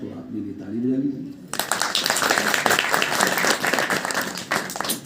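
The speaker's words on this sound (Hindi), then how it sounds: "तो अपने लिए ताली बजा लीजिए" After someone speaks briefly, a gathered audience bursts into loud, sustained clapping that carries through the remaining seconds with a dense, even texture.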